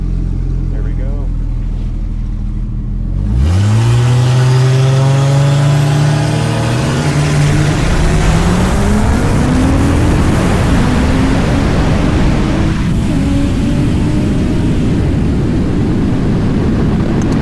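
A turbocharged BMW car launches and accelerates hard on a 14 PSI wastegate pull, its engine note climbing steadily in pitch through a loud, roaring run with a brief gear change, heard from inside the car.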